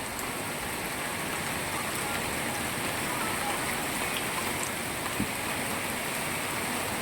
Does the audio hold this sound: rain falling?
yes